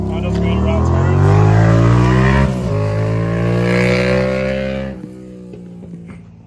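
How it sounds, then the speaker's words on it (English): A Volkswagen MK8 GTI with aftermarket modifications drives past close and loud, its engine note rising steadily with turbo whine on top, a brief dip at a gear change, then easing off near the end. "turbo noises are always fun to hear"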